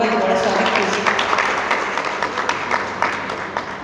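Applause from an audience at a book launch ceremony welcomes the guests, a steady wash of clapping from many hands, loud and close, that slowly fades over a few seconds with some voices mixed in.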